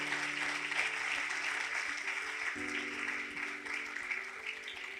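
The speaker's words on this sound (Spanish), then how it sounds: "denle un aplauso al Señor" A church congregation applauds during a pastor's sermon, with steady, even clapping over a sustained hum and organ-like tones throughout.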